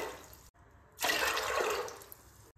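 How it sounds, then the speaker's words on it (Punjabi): Water is poured from a cup into a pot of black chana for soup, a short splashing pour lasting about a second, close and clear with no talking. "ਉਸੇ ਕੱਪ ਨਾਲ ਆਪਾਂ 4 ਕੱਪ ਪਾਣੀ ਦੇ ਪਾਵਾਂਗੇ।"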